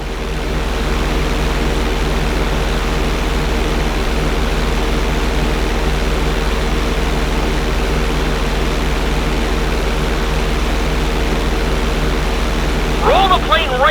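A propeller airplane engine droning steadily during a flight school stunt in the video game GTA V, loud and continuous with a strong low hum, a brief voice near the end.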